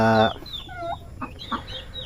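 A loud, close call from a turkey opens, followed by soft, high peeping from six newly hatched turkey poults, scattered and faint.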